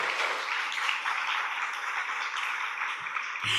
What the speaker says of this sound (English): A big round of applause for Mrs.